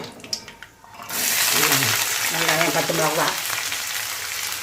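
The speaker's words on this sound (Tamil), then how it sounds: "நல்லா கடுகு வெடிக்கணும்." Mustard seeds splutter and crackle in hot oil for idli upma, starting after a few soft kitchen clicks and then a continuous loud sizzle with popping, while a voice talks underneath.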